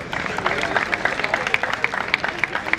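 A crowd applauds the referees at a sports tournament prize ceremony with steady, moderately loud clapping, mixed with background murmur and faint voices.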